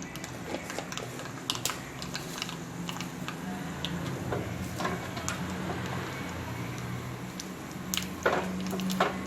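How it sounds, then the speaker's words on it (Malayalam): Mustard seeds sputter and pop in hot coconut oil, a dense, continuous crackle of small sharp snaps that grows a little busier toward the end. "എണ്ണ ചൂടായിട്ടുണ്ട് നമുക്കതിലേക്ക് കടുക് ഇട്ട് കൊടുക്കാം"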